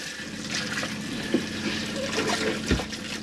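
Tap water runs steadily in the centre washroom of a Chausson Welcome 728eb motorhome, with hot water flowing again. The splashing is close and constant, with a couple of brief knocks and no talking.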